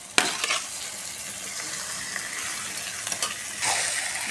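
Marinated chicken hitting a hot pan for chicken do pyaza, a sharp burst of sizzling followed by steady close frying with a few stirring scrapes and a louder surge near the end.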